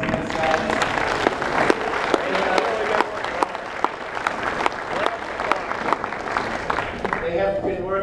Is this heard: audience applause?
yes